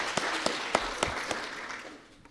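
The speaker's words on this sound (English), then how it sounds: "let's just give them a big round of applause" An audience at a small business event applauds a panel, sparse clapping with a handful of distinct sharp claps standing out over a softer spread, fading near the end, close and moderate, no voices.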